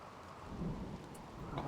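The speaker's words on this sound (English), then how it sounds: "It's raining." Soft rain hiss with a low rolling rumble of thunder building midway, fairly quiet and distant, no voices, in the video game RimWorld.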